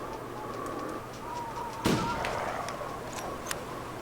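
A single sharp gunshot at a wolf in The Long Dark cracks out midway over a steady background hum, followed by a few faint clicks.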